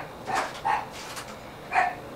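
A small dog barks three times in short, sharp yips, spaced irregularly and heard from a moderate distance in a quiet workshop setting.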